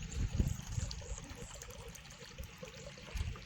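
Faint, low gurgling and trickling of water flowing into a village pond, a soft continuous burble with small splashy pulses, quiet and close.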